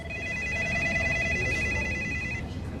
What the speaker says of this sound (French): Les téléphones du cabinet d'avocats n'arrêtaient pas de sonner.